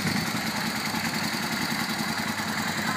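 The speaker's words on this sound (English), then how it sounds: "Let's go ahead and fire it up so you can hear it run." A 2003 Yamaha V-Star Classic touring motorcycle idles steadily in neutral, its engine giving a continuous, even rumble heard close up with no talking.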